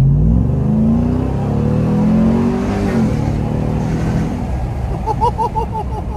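A Ram TRX pickup truck's engine revs with a deep, rising growl that fades into a lower rumble, with faint chirping and whirring sounds near the end.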